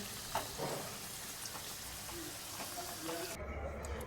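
Capsicum fritters deep frying in oil, a soft continuous bubbling sizzle heard at a distance, fairly quiet with faint background noise and no voices.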